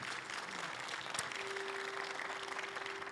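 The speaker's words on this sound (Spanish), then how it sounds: "Denle un aplauso al Señor por su palabra" Steady, dense applause fills a church congregation, continuous and fairly close for a few seconds.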